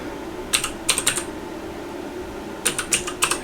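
Command being typed on a computer keyboard during a Linux terminal session, heard as two short bursts of crisp, close keystrokes separated by a quiet pause, with no talk.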